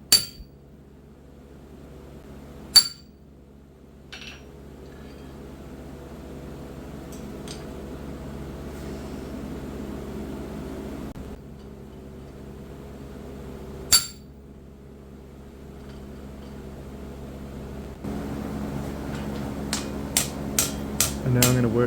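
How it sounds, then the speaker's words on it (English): A hammer strikes a chisel to cut hot metal while forging a rushlight, a few sharp ringing blows spaced seconds apart, then a quicker run of taps near the end over steady background noise. "but it's nicer to chisel it."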